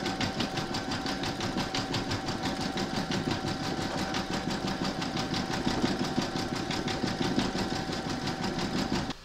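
Embroidery machine stitching a mandala coaster with silver metallic thread, a fast, even mechanical chatter of needle strokes that runs steadily and close-up before stopping at the end.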